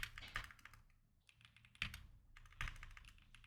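Computer keyboard typed on in quick irregular bursts of clicky keystrokes, with short pauses between runs, fairly close and quiet in an otherwise silent room.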